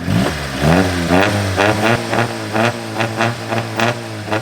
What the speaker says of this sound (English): You've got a straight pipe exhaust in this, which is great because you can really hear all of the power